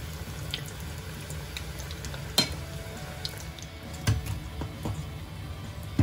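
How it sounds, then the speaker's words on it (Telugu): Soy vegetable nuggets fry in oil over a medium flame, producing a steady close sizzle with scattered sharp pops and crackles throughout. "మనం సోయా వెజిటేబుల్ నగ్గ చేసుకుంటున్నప్పుడు ఆయిల్ మీడియం ఫ్లేమ్లో పెట్టుకుంటే లోపల నుంచి కూడా మనకు ఫ్రై అయిపోతాయి"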